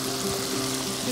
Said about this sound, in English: Give a quick stir just so that it's not sticking in the bottom.